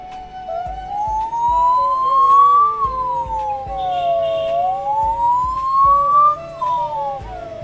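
A man vocally mimics a police siren with a slow, drawn-out wail that rises and falls twice, loud and close against a faint steady hum.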